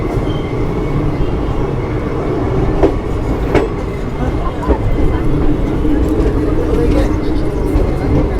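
A Jammu Tawi–Jodhpur express train rolls past houses close by in the Rajasthan desert, a steady loud rumble with a few faint rail clicks throughout, a voice talking over it.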